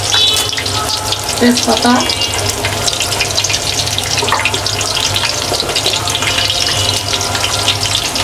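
Onion and bay leaf frying in oil for Sylheti white khichuri, a loud continuous sizzle and crackle that fills the whole stretch, with a brief voice speaking early on.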